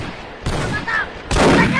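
Gunshots ring out in a Filipino action short about an unpaid debt, with a few sharp, loud bursts separated by brief pauses, the final blast the heaviest.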